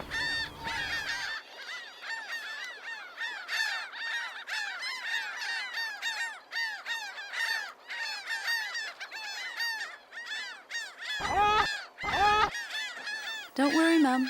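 Seagulls call at their nesting site on Mount Ifach, a dense, loud chorus of harsh, repeated cries overlapping close by throughout.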